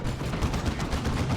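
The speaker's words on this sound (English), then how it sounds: "that plasma cannon is messing things up" Rapid, dense gunfire-like blasts from a plasma cannon in Dawn of War 2 battle, a loud continuous burst of overlapping shots with no pause.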